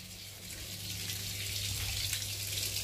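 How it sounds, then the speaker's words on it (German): A garden hose sprays water outdoors, giving a steady, continuous hissing rush that builds slightly and then holds even, close by and alone without speech. "Hier spritzt nämlich ein Schlauch."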